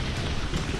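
Steady rain falls on a hot, steamy Florida day, a dense close hiss of drops hitting surfaces in a short, even burst with no voices.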